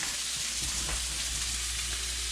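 Breakfast food frying in a pan, a steady close sizzle and crackle with no talking, even in level throughout.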